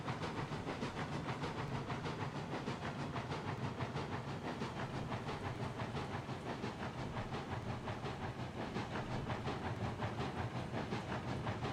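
A long double-header steam train pulling 25 cars in the railroad game Railroads Online chugs along uphill with a steady rhythmic hiss and rumble that holds constant at a moderate distance throughout.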